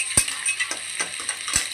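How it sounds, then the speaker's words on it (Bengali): Cumin and chopped onion stirred while frying, with a soft sizzle broken by a few sharp spoon strikes against the pan at irregular intervals, close by and with no voices. "কিছু জিরে দিলাম, তারপর পেঁয়াজের কিছু কুচি, ভালো করে নাড়তে লাগলাম।"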